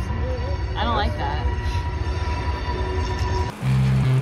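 Train wheels shriek with wavering, high-pitched squeals over a steady rail rumble as a train pulls in to stop nearby. The sound drops abruptly to a lower, droning hum near the end.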